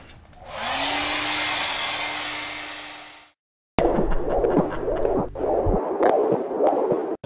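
A hair dryer blows steadily and loudly on a not-quite-dry painting for about three seconds with a rising whine, then cuts off; a louder, clattering stretch of handling noise follows.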